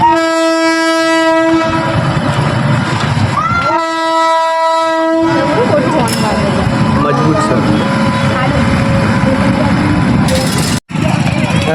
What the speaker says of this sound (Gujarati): રેલગાડી આવી એટલે હવે ફાટક બંધ કરી છે